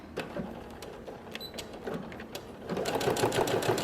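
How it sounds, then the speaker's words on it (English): A sewing machine runs a straight stitch close to a seam while attaching a collar and facing, quick rhythmic mechanical chatter in short bursts that quickens and grows louder near the end, with no voices. "So I'm just going to straight stitch real close to the seam here, just to keep this secure."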